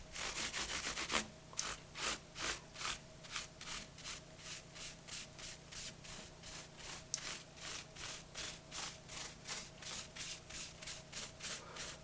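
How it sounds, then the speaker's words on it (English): A cloth soaked in rubbing alcohol is rubbed along the frets and fretboard of an Epiphone Les Paul guitar, making a quick burst and then steady rhythmic back-and-forth scrubbing strokes, close and quiet, with no talking. "Guess I'm wiping the fretboard off a little bit too."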